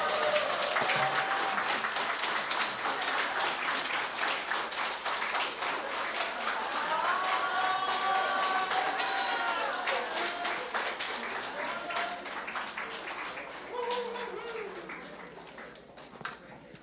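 Concert audience at a Women's Day show in Poland applauding in sustained, dense clapping that carries steadily for many seconds before tapering, with a voice calling out over it.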